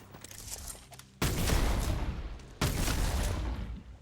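Bursts of gunfire in the video game Starfield: two sustained, loud volleys of rapid shots, the first kicking in abruptly after a quieter stretch and the second following close behind, with no talk over them.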